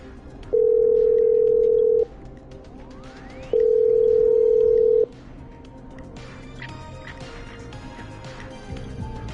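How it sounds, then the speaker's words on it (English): Telephone dialing in the Killer Frequency video game: two long steady ring tones with a short gap, followed by faint rustling background noise. "I'm dialing. One moment."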